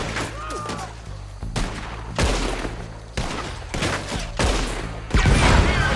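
Gunfire in Red Dead Redemption 2 comes in several loud, close bursts of shots with booming low impacts, separated by short pauses and followed by echoing tails.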